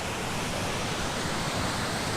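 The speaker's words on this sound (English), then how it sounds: "See that creek or waterfall in below us there." Rushing water from a creek or waterfall below a mountain campsite in the Canadian Rockies, a steady, dense broadband roar that holds level throughout, with no voices over it.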